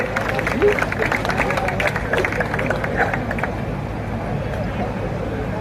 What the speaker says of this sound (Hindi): जोरदार ताली बजाओ सराफ जी के लिए